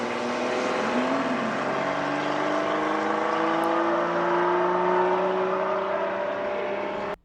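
A Porsche 917K race car screams past, its loud high engine note sweeping down in pitch as it passes, sustained and alone with no talk.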